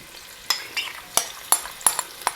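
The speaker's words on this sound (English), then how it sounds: "we'll stir it around and let it saute" Chopped medium onion stirred in hot olive oil at the start of a meat sauce, with a soft steady sizzle broken by several sharp scraping stir strokes at a regular pace, close and alone.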